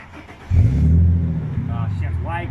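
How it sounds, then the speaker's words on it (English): A car engine with an aftermarket performance exhaust starts up and settles into a steady, throaty idle close by, with brief speech near the end. "see how much different it sounds from stock to no exhaust to performance exhaust."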